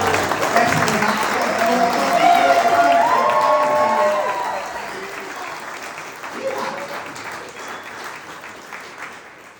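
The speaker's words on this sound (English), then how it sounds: "round of applause please" A wedding reception crowd claps loudly, with a few cheers and voices mixed in, and the applause gradually fades away toward the end.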